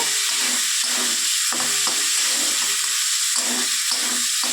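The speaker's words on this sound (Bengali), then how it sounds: "চিংড়ি মাছটাকে এবার আমি লাল লাল করে ভালো করে ভেজে তুলে নেব" Prawns frying in a pan until red for a yam and prawn curry make a continuous close sizzle with a faint, bubbling, pulsing texture and no voices.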